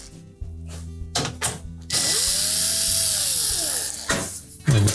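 Power drill backing out 1/4 inch hex head screws from a GE range access panel: short bursts of whirring, then a longer sustained whine that rises and falls in pitch, followed by clicks and handling noise.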